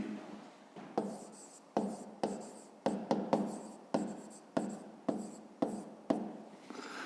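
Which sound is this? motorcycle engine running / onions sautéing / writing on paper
writing on paper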